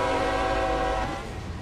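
A train in a video game sounds a sustained tonal horn over a rumbling passing rush that fades slightly toward the end, loud and with no talk.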